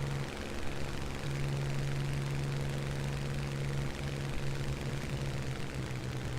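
Spitfire IIa engine in a flight combat game, a steady droning hum with a sustained tone that falters and dips partway through as a negative-G fuel cut drops the RPM, alone without talk.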